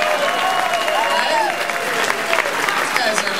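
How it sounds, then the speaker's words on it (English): An audience at Hyena's comedy club in Dallas applauds, with dense, sustained clapping and some crowd noise filling the whole moment at a loud, even level. "Let's have another round of applause for those other two gentlemen"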